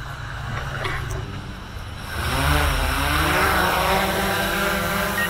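A camera drone lifts off: a low broadband rush for the first two seconds, then a louder, steady multi-rotor whine with rising propeller tones that holds nearby.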